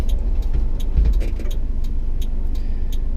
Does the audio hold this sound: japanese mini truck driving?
yes